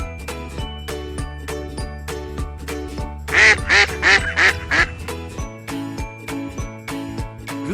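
A duck quacks in a short burst of about five rapid calls over a bright jingling music track, the quacks loud and close amid the tinkling melody in a farm-animal sound sequence for children.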